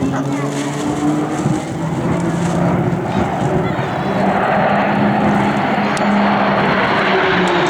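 RAAF Roulettes training aircraft fly a formation display at Point Cook, a loud sustained propeller-engine drone with shifting pitch on a windy day, while a commentator talks over it.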